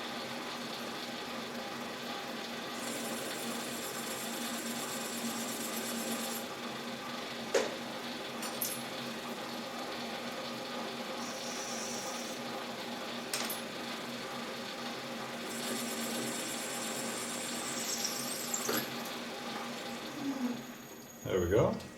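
A lathe runs with a steady mechanical hum while a parting tool cuts off an aluminum sensor cover, with bright, sustained cutting whines in two stretches. Someone talks over the machine throughout.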